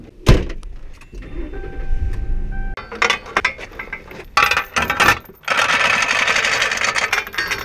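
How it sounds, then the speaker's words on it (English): Police Ford Crown Victoria engine straining as it tries to drag another car, with a loud mechanical rumble, metallic clinks and bursts of revving that build into a sustained roar. "I'm gonna pull it with this police car."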